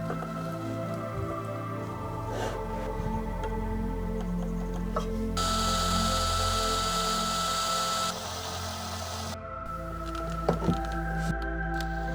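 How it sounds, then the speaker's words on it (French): A power drill bores a hole about 1 cm deep into a 19 mm thick wooden board for a dowel, giving a steady whirring buzz that runs for several seconds over a quiet background. "Je vais faire un perçage sur environ 1 cm."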